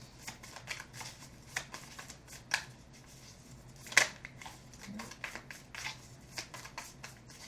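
Tarot cards being shuffled by hand, a quiet series of riffling and flicking bursts with a sharper snap near the middle, close and faint, no talk.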